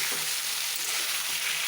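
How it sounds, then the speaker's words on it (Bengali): Small fish frying in oil in a pan give off a steady, dense, close sizzle with a few faint clinks, unbroken across the whole short stretch. "দেখো আমি মাছগুলোকে কিন্তু খুব ভালোভাবে ভেজে নেব।"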